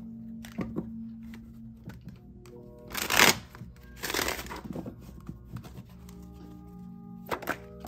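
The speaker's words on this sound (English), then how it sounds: "Give it one more shuffle." An oracle card deck is shuffled by hand, giving two short bursts of riffling and crinkling card noise, then a brief flick near the end, with quiet room hum between them.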